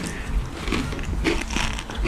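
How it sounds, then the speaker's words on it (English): Crunchy food being bitten and chewed close to a microphone, with irregular crackling bites over a low background rumble, heard alone without talk. "is he crunching now, is it?"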